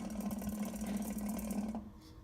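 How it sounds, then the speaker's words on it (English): A 52-inch first-generation FASCO Charleston ceiling fan hums steadily while its switch housing vibrates with a buzzing, machine-like bearing chatter, loud and close, then drops away near the end. "Something is making the switch housing vibrate."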